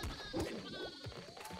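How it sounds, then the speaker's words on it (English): Sheep bleat in the Nuclear Throne Ultra mod, several overlapping wavering calls packed into a busy, noisy game mix with no talking. "So many sheep."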